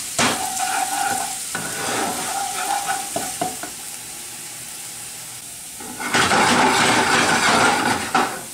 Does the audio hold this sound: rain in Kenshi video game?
no